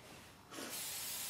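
A short burst of hairspray misted over a styled pinup hairdo, a soft hiss rising halfway through and holding steady to the end, close and fairly quiet.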